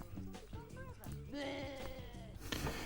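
A sheep-like bleating noise from a film scene wavers in a few drawn-out pitched calls, mixed in with voices talking over it.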